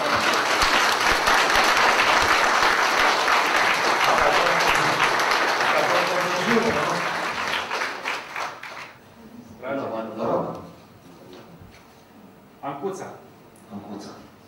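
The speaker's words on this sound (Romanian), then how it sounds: "vă aplaud acum colegii dumneavoastră" Applause from an audience at a televised local quiz show, with dense, loud clapping for several seconds that fades out, then speech and a few scattered claps.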